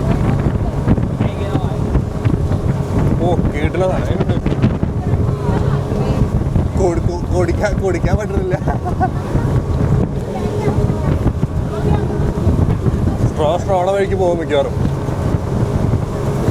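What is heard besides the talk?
boat ride with wind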